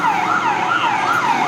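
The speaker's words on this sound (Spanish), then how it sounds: "Ahí viene la policía o la ambulancia" Ambulance siren passing along a street in Necochea, loud and steady, its tone rising and falling in a slow repeating wail over faint road noise.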